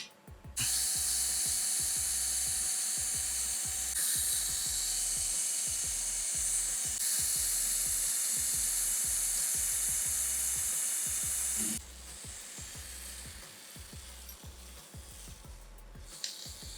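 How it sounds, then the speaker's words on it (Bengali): Makita 12V cordless drill boring through a thick heatsink: a loud, steady high-pitched whine with rapid rhythmic clatter that runs for about eleven seconds, then drops to a quieter hum with a few faint knocks. "আমাদের এই মোটা সোটা হিটসিংরাও কিন্তু ড্রিল করা সম্ভব হয়েছে"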